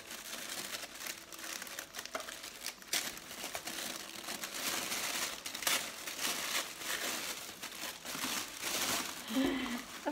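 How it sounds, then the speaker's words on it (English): Crinkly tissue paper tears and rustles inside a FabFitFun Spring 2019 subscription box, with close, continuous crackling and crumpling that carries through the whole stretch without speech. "So I'm just going to now dive into the box, kind of tear open this tissue paper here."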